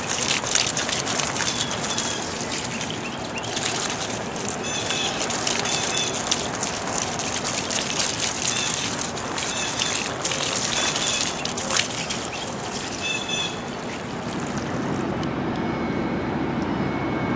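Water sprays steadily over okra plants in an urban garden to wash off aphids, a continuous close hiss that fades out near the end, with faint birdsong behind it.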